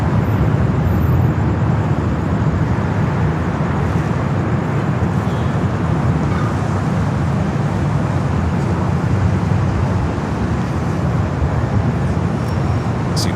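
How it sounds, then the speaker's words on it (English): An Aer Lingus airliner takes off at LAX with a steady, loud, broadband jet roar that holds evenly for over ten seconds, with no voices over it. "Air Lingus taking off on the south side."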